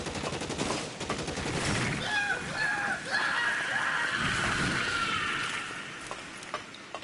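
Sustained rapid gunfire in the video game LA Noire, a dense rattling burst lasting several seconds before trailing off, with faint background noise.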